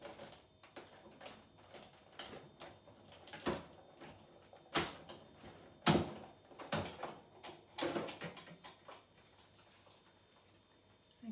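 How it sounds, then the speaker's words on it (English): Creaks and knocks from a die-cutting box being lugged around during papercraft card making, a scattered series of sharp close clatters and squeaks with no talking. "you don't have to listen to me lugging the cutting box around. You just hear the creaking of it."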